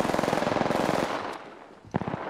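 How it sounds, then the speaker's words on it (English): Automatic weapon fire in Apex Legends, a fast rattling burst lasting about a second, then quieter background before a sharp shot and another short burst. "They're shooting at me?"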